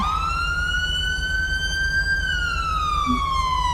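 A loud electronic auxiliary police siren in LSPDFR, a GTA V police mod, wails in a slow rising and falling sweep over a steady low engine drone.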